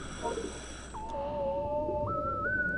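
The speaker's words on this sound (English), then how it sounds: "But let's do the underwater whistle." A thin, wavering whistle tone rises in steps over a soft muffled background, an underwater whistle call to a whale in the video game Endless Ocean.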